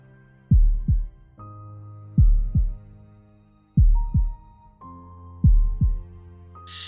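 A deep, booming heartbeat pounds in paired thuds, four double beats spaced evenly over a low sustained tone.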